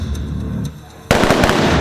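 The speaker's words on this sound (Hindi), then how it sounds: "डिसेप्शन टीम ने आतंकियों को भ्रमित करने के लिए सिमुलेटेड ग्रेनेड चलाया और एकाएक विस्फोट जैसी आवाज हुई" A simulated grenade goes off during an ATS anti-terror drill: after a low, murmuring lead-in, a sudden loud, close blast erupts and breaks into a rapid crackling burst that carries on to the end.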